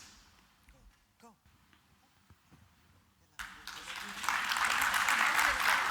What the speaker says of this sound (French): Sous applaudissements.